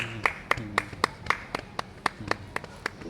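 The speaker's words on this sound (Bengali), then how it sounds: "বাহ, তুমি হাততালি দাও" Single hands clap in an even, steady rhythm, about a dozen sharp claps close by against a quiet room, after a children's rhyme.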